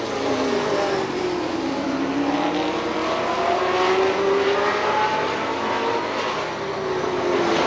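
Race cars roar around the turns at Star Speedway in New Hampshire, a loud, dense, continuous engine drone with rising and falling pitch as they pass, with no talk.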